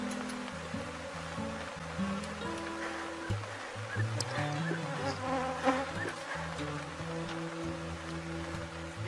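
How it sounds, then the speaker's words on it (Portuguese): A swarm of honeybees buzzes around a hive box after a colony split, a dense continuous drone with overlapping wingbeat tones that rise and fall while individual bees pass near and away. "Enxames assim, gente, que voa muitas abelhas para todo lado"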